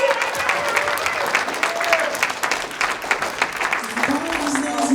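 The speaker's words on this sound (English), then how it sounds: "let's give him a round of applause guys" Audience applause for hip hop artist Blick at a live comedy showcase, sustained crowd clapping throughout with a speaking voice and a brief tonal sound near the end.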